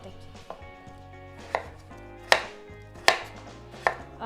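Close knife strikes cut peeled pumpkin into small chunks on a board, a slow irregular series of crisp thuds growing louder toward the end, heard alone without voices.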